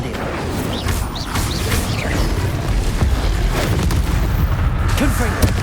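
Incendio fire spells cast in a Hogwarts Legacy battle, loud continuous booming and whooshing blasts layered over dense combat noise, with a voice shouting spell names during the fight.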